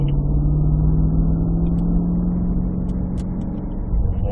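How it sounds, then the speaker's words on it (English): A Cadillac CT5-V Blackwing with a six-speed manual accelerates out of a turn on the Spring Mountain track in Pahrump, its engine droning loud and close with a steady, slowly rising tone throughout. "Then we unwind that wheel and accelerate out."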